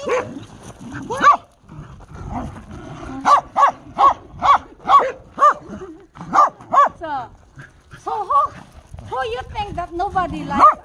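A corgi barks in a quick run of sharp, evenly spaced yips close by, with further barks scattered among a person's excited talk.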